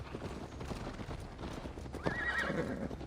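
Horses in Assassin's Creed Valhalla clop along at a trot, with a clear neigh rising near the end, set against game ambience at moderate distance.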